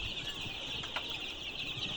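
Ten-day-old Sonali chicken chicks cheep and cluck steadily, with a dense band of bright peeping and a brief louder call partway through, close by and with no talking.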